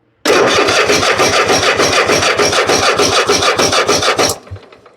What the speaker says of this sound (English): So let me crank it over, see if I can feel it pushing or pulling fuel.